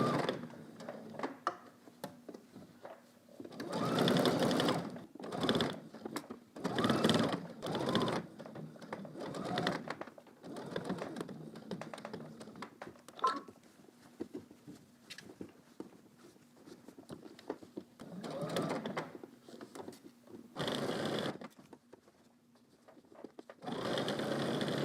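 A sewing machine stitching across fabric runs in several short bursts of rapid mechanical whirring, separated by quieter pauses with light handling sounds.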